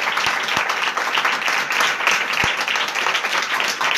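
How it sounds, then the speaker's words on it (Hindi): A church congregation claps loudly in praise during a worship service, dense and sustained applause from the gathered crowd with a few sharper individual claps standing out. "अपने जिंदा खुदा के लिए जोरदार तालियां।"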